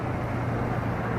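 Steady traffic rumble in Madurai city, with motorbikes weaving close by through the flow, a continuous low engine drone at even loudness with no talk.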